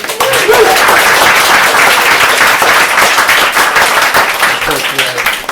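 An open-mic night audience applauds a guest reader, dense steady clapping filling the room at close range and tapering slightly toward the end.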